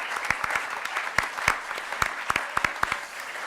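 An audience applauds a speaker at a literary panel, with steady close-up hand claps that last the whole stretch.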